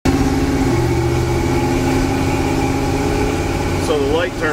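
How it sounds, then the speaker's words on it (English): A warmed-up car engine idles steadily and fairly loud close by, holding a low even rumble for the whole stretch, with a brief shift in pitch near the end. "We let it sit and warm up here a moment. Now watch this. It idles now."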